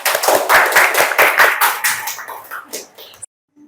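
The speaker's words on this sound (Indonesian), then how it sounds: "Kasih tepuk tangan" Students in a vocational high school classroom clap their hands in a loud, close burst of rhythmic claps that thins out and stops abruptly after about three seconds.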